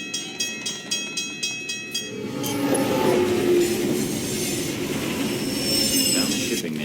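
Train cars move through a rail yard in the video game Alpha Protocol, opening with a steady run of rhythmic clicks from wheels on rail joints, then swelling into a loud continuous rumble with high metallic wheel squeals.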